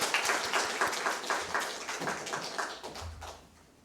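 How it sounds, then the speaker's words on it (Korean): A church congregation claps in rhythm during a Sunday morning worship service, a run of evenly spaced claps that gradually fades out. "우리 다시 한번 하나님께 영광의 박수 올려드리겠습니다"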